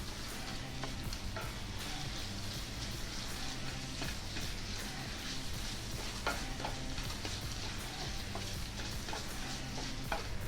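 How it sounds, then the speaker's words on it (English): Sausage broken apart with a spoon browns in butter for biscuits and gravy, making a dense, continuous sizzle with soft stirring scrapes throughout. The level is moderate and there is no talking. "with a spoon, we're going to start breaking it apart and letting it brown in the butter"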